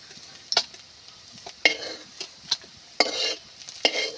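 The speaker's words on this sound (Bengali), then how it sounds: "একইভাবে আমি সবগুলো ভেজে নেব।" An egg and potato snack fries in a pan, with bursts of sizzling and scraping stirs and clinks of a utensil recurring every second or so, close and clear with no voices.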